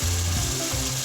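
Masala cooked with minced meat sizzles in a pan, a brief close burst of dense frying hiss over a low rumbling hum, steady and fairly loud, with no talking.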